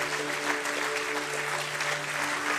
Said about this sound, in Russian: Подарите аплодисменты пастору за это сильное слово